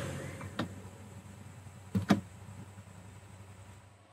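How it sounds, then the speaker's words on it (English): On a Rolls-Royce, the Spirit of Ecstasy mascot's motor whirs briefly as the emblem lowers and rises, a quiet mechanical hum with a few soft clicks and a small clunk, alone in a still cabin. "you'll obviously want to put down and raise your spirit of ecstasy, which is done very easy like so"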